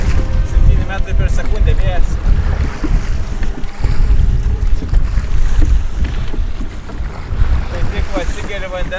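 Strong wind out at sea buffets the microphone with a steady, loud roar and rushing water noise from the waves.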